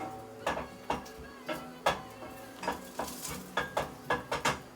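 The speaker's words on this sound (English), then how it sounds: "So we're sizzling away now." Ginger and garlic frying in a pot sizzle steadily, while sharp stirring clatters strike about every half second, close and fairly quiet, with no voices.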